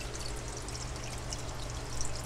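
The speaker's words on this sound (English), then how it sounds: "I also got this waterfall down here in their pool." A small waterfall splashes into the pool of a python enclosure, a steady close trickling and pouring with soft bubbling, faint and continuous with no talk.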